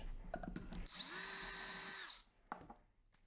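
Power drill sharpening a pencil, one whirring burst of about a second with a grinding scrape, framed by quiet handling clicks before and after.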